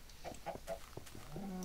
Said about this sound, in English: Wait, now there's chickens out.